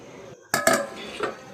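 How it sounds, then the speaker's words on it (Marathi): Metal lid set onto a pot of cashew curry boiling over a wood-fired stove, giving two quick close clanks followed by a softer rattle as it settles. "आता झाकण ठेवून चांगले दणकून उकळी काढूया"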